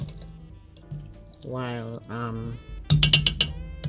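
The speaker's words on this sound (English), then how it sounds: "Let me stir and I'm pouring the wine and the rum" Red label wine and rum poured over hot stewed fruits in a glass container, a steady liquid pour under a person talking, followed by a few bright glassy clinks near the end.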